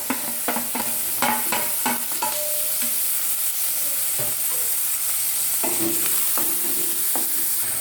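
Garlic, green chilli, chopped carrot and beans stir-fry in hot oil, with a loud continuous sizzle broken by repeated rhythmic scraping and clinking of a spatula against the pan.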